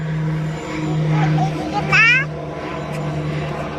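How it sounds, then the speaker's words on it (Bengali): An airplane flying overhead makes a low, steady drone that swells slightly midway, while a child and an adult talk close by. "ওই যে প্লেন"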